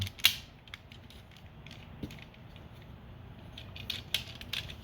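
Plastic parts of a Transformers Titan Returns toy, Chromedome and Stylor, are plugged into ports beneath the windshield, giving a few small, close clicks and light creaks over a quiet room.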